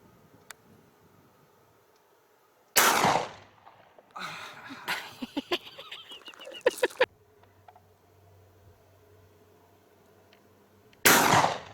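Two sharp, loud blasts from an Akdaş 112 SB 12 gauge single-shot break-action shotgun firing slugs outdoors, spaced about eight seconds apart, with clattering and handling noises between them and quiet ambience around.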